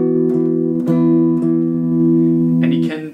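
Strummed guitar chords from a song, with an extra bass note picked between each chord, ringing steadily and close in a sustained, even pattern with brief attacks between chords.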